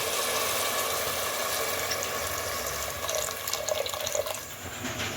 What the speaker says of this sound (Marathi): उपमा पाणी टाकत आहोत